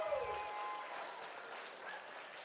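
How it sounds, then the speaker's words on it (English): Applause from a charity auction crowd, a soft, fairly distant patter that begins as a voice trails off and carries on evenly for a couple of seconds. "Huge round of applause for all the generous people that gave."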